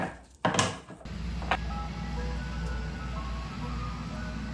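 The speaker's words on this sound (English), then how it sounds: "The ice cream truck is in our neighborhood. Can you hear it?" Ice cream truck jingle drifting through a residential neighborhood, heard faintly from a distance as thin melodic tones over a low outdoor hum, after a couple of close handling knocks at the start.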